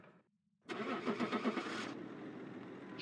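Van engine in the video game Phasmophobia cranks with a rhythmic starter churn for about a second, then catches and settles into a steady mid-pitched idle, clear and alone.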